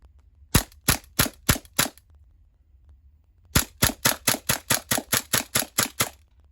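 A WE Mauser M712 green gas airsoft pistol fires a quick run of five sharp cracks, then after a short pause a longer rapid full-auto burst of about a dozen shots, close and crisp.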